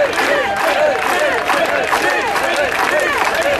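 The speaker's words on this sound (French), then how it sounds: "je veux que vous remerciez par vos applaudissements nourris Thierry Montour" A large audience at a farmers' union gathering bursts into loud, continuous applause mixed with cheering, while a speaking voice carries over the clapping.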